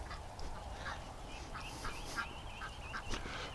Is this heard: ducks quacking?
yes